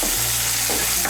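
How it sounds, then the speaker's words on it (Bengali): Cut potato pieces frying in oil give a loud, close sizzle for about a second, with a brief stir or shift of the pieces near the end. "আলুটাকে তেলের সঙ্গে মিশিয়ে নেব। মিশিয়ে নিয়ে আলুটাকে ভেজে নেব।"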